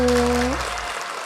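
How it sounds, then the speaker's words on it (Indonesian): A voice trails off and gives way to a steady wash of clapping from a crowd of women at a Ramadan pre-dawn gathering, filling the space evenly. "Tepuk tangannya mana ibu-ibu?"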